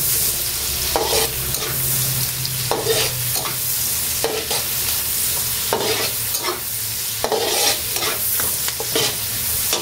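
Pork cubes stirred in a hot pan, a steady sizzle of frying meat with repeated scraping strokes of the utensil at a regular rhythm, close and fairly loud with no talking.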